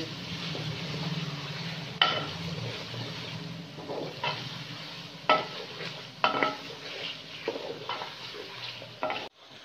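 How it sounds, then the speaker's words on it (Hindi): Fried chicken being sautéed in masala for daal gosht, with a continuous sizzle under repeated scraping stirs of a spoon in the pan, close up, ending in a sudden cut-off. "हम इसके अंदर फ्राई किया हुआ चिकन शामिल कर देंगे और चिकन को मसाले में अच्छी तरह से भूनेंगे।"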